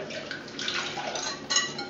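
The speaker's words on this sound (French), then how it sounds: "Je vais verser dans une casserole" An orange mixture pouring steadily into a saucepan, a soft continuous splash close by that swells slightly near the end.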